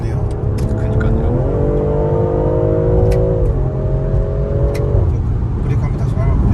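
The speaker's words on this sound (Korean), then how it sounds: "M5 같은 배기음이 나네요." Loud in-cabin exhaust note of a BMW M340i Touring while driving: a steady engine drone climbs briefly, holds its revs for a couple of seconds, then eases down and continues evenly.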